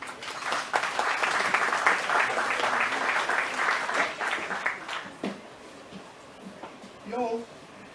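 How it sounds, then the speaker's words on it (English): Crowd applause for trick roper Bud Edgar at a rodeo event, a full wash of clapping that holds strong for several seconds and then tapers to scattered claps, with a voice speaking over the fading end. "why don't we put our hands together here for the Joker and the famous trick roper"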